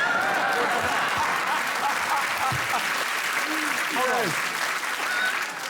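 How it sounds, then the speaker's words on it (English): A television studio audience on a chat show applauds steadily and loudly for several seconds, with cheers and whoops rising over the clapping. "You're clapping him"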